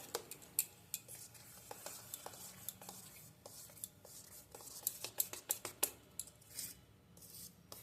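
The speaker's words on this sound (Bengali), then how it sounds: "অল্প একটু জল দিচ্ছি এবার খুব ভালো করে মিশিয়ে নিচ্ছি" Batter being stirred and mixed after a splash of water, giving a quiet run of irregular scraping and clinking strokes with a few sharper taps, close by and without talking.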